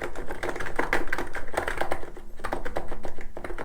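Rapid, continuous typing on a Cox Endeavor capacitive keyboard with light 35g switches, a crisp, brisk clatter of keystrokes close by, steady throughout with no voices.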